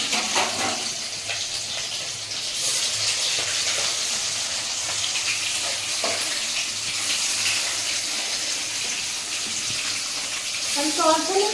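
Boiled chital fish dumplings sizzle steadily in hot oil, a continuous bright crackling hiss that stays loud and close throughout, with a few faint clinks near the end.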